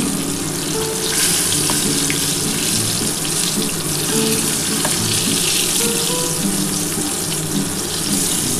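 Chicken pieces frying in hot oil for crispy chicken, a loud continuous hissing sizzle close up with occasional faint clinks, no voices.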